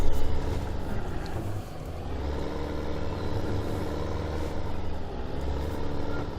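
Engine drone of a Case tractor in Farming Simulator 2015, a steady low rumble that holds at an even level throughout, with no talking over it.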